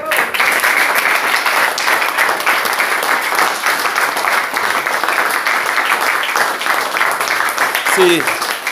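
Loud, dense applause from a worship congregation at a Cameroonian prayer gathering, continuous and close, with a brief voice near the end.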